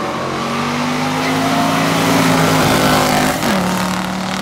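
A 1963 Plymouth Savoy with a 426 and a 1968 Camaro SS396 roar together at full throttle in a drag race, a loud steady engine drone that climbs in pitch, then drops sharply through a gear change near the end.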